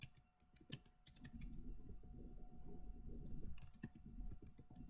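Rapid, irregular clicking of keys on a computer keyboard during git commands, close and crisp with bursts of fast keystrokes and brief pauses, no voices.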